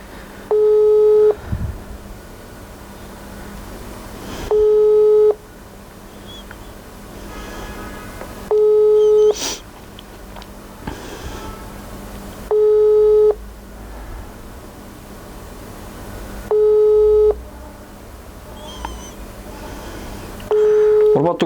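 A telephone busy signal repeats in steady beeps about every four seconds while a call is placed, loud and clear over a faint background hum, with no talking in between.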